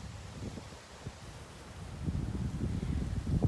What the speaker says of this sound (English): It's very windy today, so filming this outside might not be the best thing to do.